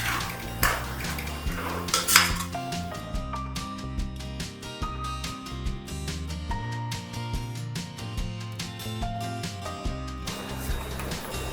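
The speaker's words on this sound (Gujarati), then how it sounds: "હવે આ બધાને સતત હલાવતા રહીને બરાબર ચડવી લેવાના" Garlic and green chili paste is stirred continuously with onions and tomatoes in a pan for Gujarati ringan bhartu, producing repeated close metallic clinks and scrapes of a spoon against the pan.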